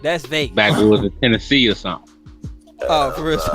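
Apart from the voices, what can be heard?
No distinct noise like a dog, phone or traffic.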